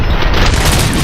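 A gunshot in the video game Rogue City, a loud, close, booming blast filling the whole short moment with no talk.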